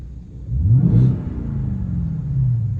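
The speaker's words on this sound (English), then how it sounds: "You can really hear that exhaust and hear that Whipple whine" A 2024 Ford F-150 Raptor R engine revs up with a deep, rumbling exhaust and a faint Whipple supercharger whine, then settles into a steady growl.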